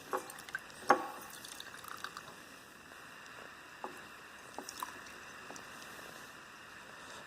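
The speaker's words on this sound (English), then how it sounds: "Removing all the water that I can by squeezing it" A few scattered drips and small splashes from a wet sponge squeezed by hand, faint and close, with a soft background hiss between irregular drops.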